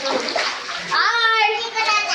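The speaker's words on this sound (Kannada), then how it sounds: "ಇದೆಲ್ಲ ನೀರು ಬೆಟ್ಟದ ಮೇಲೆ ಹರ್ಕೊಂಬಂದಿರೋ ನೀರಿದೆಲ್ಲ" Hill water rushing down beside a cave entrance, a steady, close hiss of flowing water throughout with a voice talking over it.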